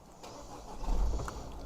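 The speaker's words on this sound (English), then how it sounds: "Car starts straight away" A 2013 Peugeot 5008 Allure HDi diesel engine cranks and fires, rising from a quiet cabin hum into a steady, low idle rumble that continues to the end, heard from inside the car.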